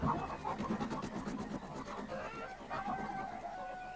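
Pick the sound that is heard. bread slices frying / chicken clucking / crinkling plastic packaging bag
chicken clucking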